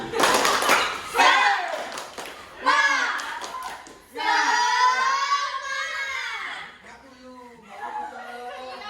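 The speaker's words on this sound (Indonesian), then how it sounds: "Satu, dua, tiga. Tepuk semangat." Schoolchildren in an Indonesian classroom perform a rhythmic spirit clap, with sharp claps in short patterned bursts mixed with loud chanting voices, close and lively.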